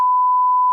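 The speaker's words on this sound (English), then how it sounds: "I'll beep it out." A single steady censor beep, a pure electronic tone held unbroken for just under a second, loud and alone with nothing else around it.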